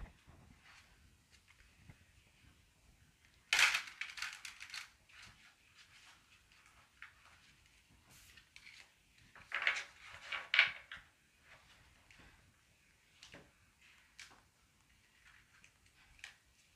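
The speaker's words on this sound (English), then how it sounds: "Let me shuffle real quick." Tarot cards shuffled by hand in two quiet bursts of riffling and snapping, one near the start and a longer one later, with soft handling ticks between them and no talk.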